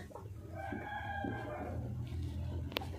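A hen clucks after laying an egg and a rooster crows amid a barnyard of fowl, with steady background noise and a brief sharp click near the end.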